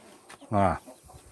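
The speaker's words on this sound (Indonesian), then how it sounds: "Itu ayamnya itu, ayam-ayamnya itu." One short, close cluck from a chicken at evening feeding time in a rural yard, set among quieter background sounds.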